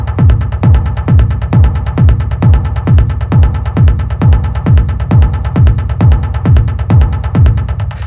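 Techno track with a rumble accent sidechain-compressed to the kick, pumping in a steady regular throb that ducks and swells on each beat, loud and continuous with no voices.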